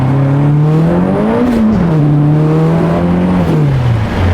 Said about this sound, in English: The turbo sounds sick.